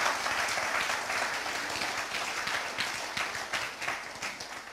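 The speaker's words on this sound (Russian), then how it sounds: "Дайте Ему аплодисменты." A church congregation applauds during a worship broadcast, a steady wash of many hands clapping that stays dense and even throughout, with no voices on top.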